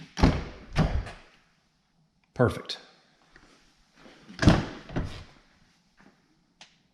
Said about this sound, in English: We'll start with just opening the doors.